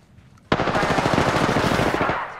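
Rapid automatic gunfire in Apex Legends erupts suddenly and rattles on in a loud, dense burst for nearly two seconds before easing off, with no voices over it.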